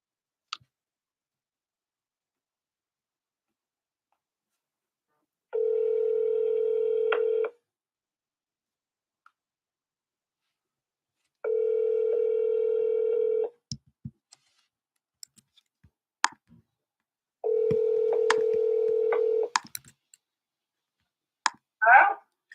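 Telephone ringback tone from a redialed second call: three steady rings of about two seconds each, separated by silent gaps, with scattered faint clicks and handling noises between and after them.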